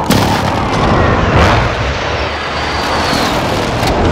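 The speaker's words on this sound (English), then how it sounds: "Airstrike target marked! Take it out! Strike 3-1, good copy. Strike inbound." Airstrike explosions in the video game Call of Duty: Warzone: loud, heavy rumbling blasts fill the clip, with a roaring swell early on and continuous booming throughout.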